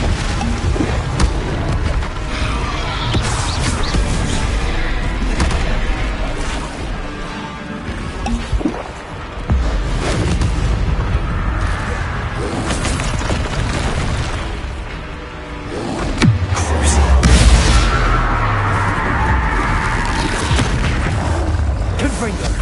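Confringo and Expelliarmus spell blasts in the video game Hogwarts Legacy: loud, continuous booms, bursts and crashing impacts run throughout, with a voice shouting over the clashing magic.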